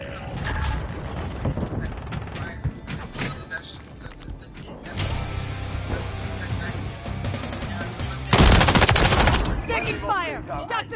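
Bursts of automatic gunfire and sharp single shots crack through a Modern Warfare 3 firefight, mixed with mechanical clanks and thuds, with a loud close burst near the end and radio voices talking over the action.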